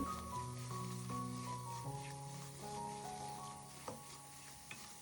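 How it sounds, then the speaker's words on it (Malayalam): Gentle sizzle of a bread crumb and milk mixture reducing in a pan over a medium flame as it is stirred, a soft steady hiss with faint scraping and a couple of light taps. "കുറച്ച് സമയം നന്നായിട്ടൊന്ന് മീഡിയം ഫ്ലെയിമിലിട്ട് വെച്ചിട്ട് ഇളക്കി കൊടുത്തിട്ട് ഈ ഒരു പാലൊക്കെ ഒന്ന് വറ്റിച്ചെടുക്കണം"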